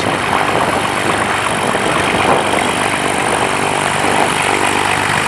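A Bellanca 260 classic propeller airplane takes off, its engine giving a loud, steady, broadband drone that fills the whole stretch, with no talking.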